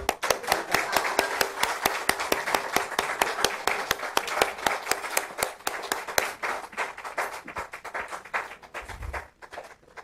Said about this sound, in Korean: 우리 퇴장할 때까지 박수.